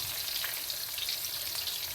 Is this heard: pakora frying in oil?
yes